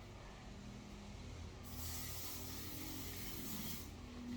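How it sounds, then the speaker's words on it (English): Cooking spray hisses from a can into a baking pan in one steady burst of roughly two seconds, close and bright, against a quiet low room hum. "with cooking spray."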